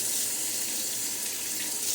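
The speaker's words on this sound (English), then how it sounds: "So I'm going to add a little bit more water." Water pours steadily into a shaving soap lather in a constant, close, hissing stream with no pauses and no talking.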